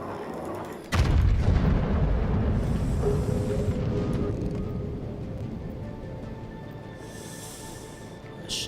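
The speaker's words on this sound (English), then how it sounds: "The shell should hit." A single deep cannon blast from a warship's guns in World of Warships booms out about a second in, then rolls on in a long low rumble that slowly fades, with faint ambient tones underneath.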